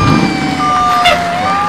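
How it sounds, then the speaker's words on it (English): A fire engine siren wails with a steady rising and falling tone over a loud, continuous rumble of engine noise, heard up close and without any talking. "Sirens to the engine noise,"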